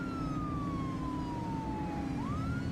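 Police car siren in The Precinct, a 1980s cop sandbox game, wailing steadily downward then sweeping back up, loud and close over a constant low engine rumble.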